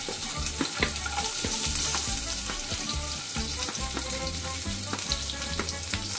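Garlic and ginger frying in hot oil, a dense continuous sizzle with frequent scraping clicks of a spoon stirring in the pan, close by.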